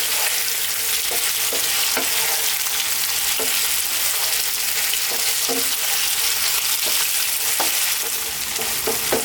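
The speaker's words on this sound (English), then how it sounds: "Keep stirring." Potatoes, peas and fresh green chilies fry in a hot pan under a steady loud sizzle, with a utensil stirring and scraping in repeated short knocks and no talking.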